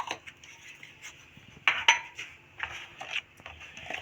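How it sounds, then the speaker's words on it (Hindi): Cake batter with baking powder being mixed in a bowl, soft scraping and light clinks of a utensil against the bowl in irregular strokes, with two sharper knocks partway through, no talking. "इनको अच्छी से मिक्स करेंगे"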